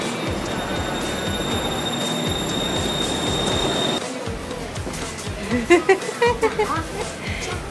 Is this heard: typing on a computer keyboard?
no